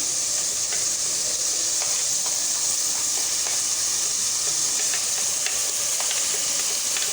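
Whole spices and coriander frying in a pan for an egg and chickpea curry, a steady close sizzle and hiss with occasional stirring scrapes throughout, no voices.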